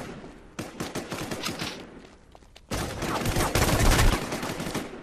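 G36 rifle fire in the online shooter War Inc. Battlezone comes as rapid bursts of close gunshots, one volley, a short pause, then a longer, louder sustained burst.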